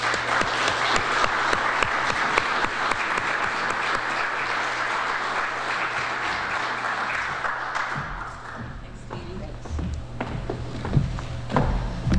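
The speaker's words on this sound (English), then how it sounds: "So let's please give them all a round of applause." Audience applause at a New Hampshire preservation event, full and steady for about eight seconds before dying away into scattered claps, footsteps and shuffling.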